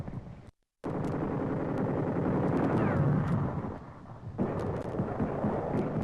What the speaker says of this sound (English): Our troops run into some sniper fire and set up a machine gun